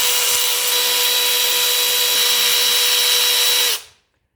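A power tool whirs loud and steady for several seconds, then stops abruptly, while 10mm bolts come off the cruise control actuator of a 1985 Mercedes 300TD wagon.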